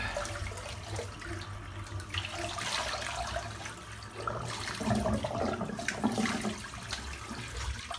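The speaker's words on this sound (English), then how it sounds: "splash of cold water now" Cold water splashed and running from a tap during a wet shave, a steady close rush of water with a couple of louder splashing surges.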